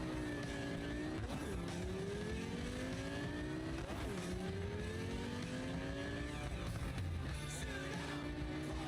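Racing car drifting in a video game: a loud, continuous engine drone that rises and falls through repeated revving swells, with squealing tyres sliding through turns and no voices.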